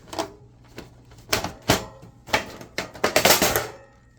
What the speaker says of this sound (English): to open it up, you take the 6 screws out on the bottom